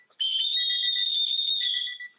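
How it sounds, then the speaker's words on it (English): A referee's whistle is blown once in a long, loud, shrill blast lasting about two seconds to end a quarter of a women's football game, heard alone and close. "I blew the whistle, right? The quarter ended."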